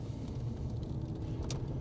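An HSV VP Senator's engine idles steadily in a low, continuous rumble, close and even throughout with no talk over it.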